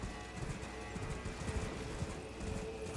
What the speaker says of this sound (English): There's a dude on a horse.